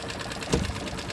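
An outboard boat motor idles in neutral with a rapid, steady mechanical putter, fairly faint and brief, with no talk over it.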